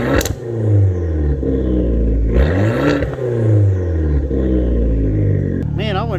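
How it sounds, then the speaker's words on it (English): A salvage Fiat 500 Abarth Turbo revs with a raspy exhaust note, the pitch rising and falling through several blips, loud and close, with a voice briefly near the end. "Man, I wasn't expecting it to have an exhaust sound like that."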